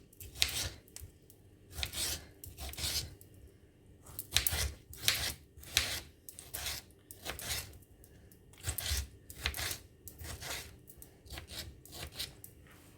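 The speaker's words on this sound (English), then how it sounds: "Now we are going to cut up our one large tomato into nice cube sizes." Knife cutting a large tomato into cubes on a board, a series of soft irregular chopping and slicing strokes, close and fairly quiet.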